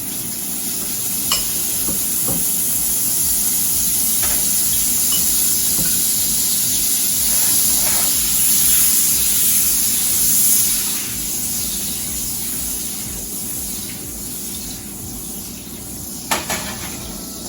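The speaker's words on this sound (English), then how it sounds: "I'm gonna start by melting the butter" Butter melts and sizzles loudly in a pan for a shrimp dish, a constant close hiss of frying with occasional faint clicks and scrapes, no voices.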